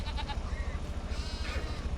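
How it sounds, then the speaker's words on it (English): Two adult goats bleating on a farm, a few short close bleats over a faint low rhythmic background, fairly quiet overall. "2 adult goats"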